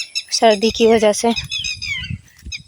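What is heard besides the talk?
birds chirping outdoors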